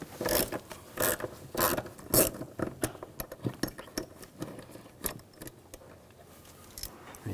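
A 5mm hex socket on a ratchet backs a screw out of the intake on a 2007-2013 BMW X5 3.0L inline-six, giving close, irregular bursts of rapid clicking and rasping with brief pauses.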